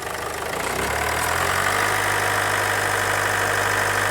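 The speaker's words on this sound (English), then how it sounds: "the engine RPM went up" A car engine running up close, its idle thickening into a steadier, louder drone as the revs climb and hold, with a faint knocking texture and no talk, on a car suspected of needing a turbo.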